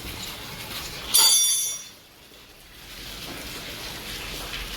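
Washer fluid spraying onto the windshield of a Hyundai Eon as its repaired single wiper is tested, a sudden hissing burst that fades after about a second, leaving a low steady background.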